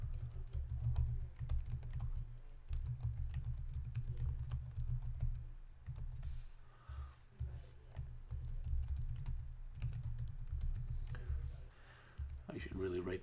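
Fingers type on a computer keyboard, clattering in a steady stream of close, soft keystrokes while an HTML file is written, with a low hum underneath.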